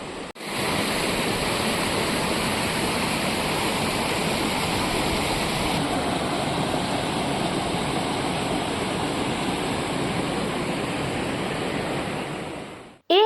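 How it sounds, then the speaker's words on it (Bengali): Mountain waterfalls pour into the Riyang River in the hills around Jogighat and Mongpu, making a loud, steady, close rushing roar of water that runs unbroken and stands alone with no talk. "চারিদিক থেকে ঝর্ণাগুলো এসে কিন্তু এই নদীতে মিশছে সুন্দর একটা শব্দ তৈরি হয়েছে"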